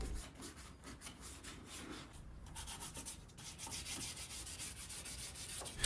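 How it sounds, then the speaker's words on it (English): Hand sanding of French Provincial bedroom furniture with 150 grit sandpaper, quiet rhythmic scratchy rubbing strokes repeating steadily at close range, with no talk. "I'm probably just going to hand sand everything using 150 grit sandpaper just to create a nice rough surface for the paint"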